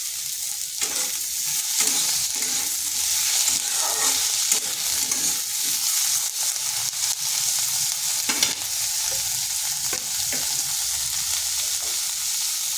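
Small tomato frying in a little oil in a pan while being stirred, a loud continuous sizzle close up with occasional scrapes and clinks of the spoon.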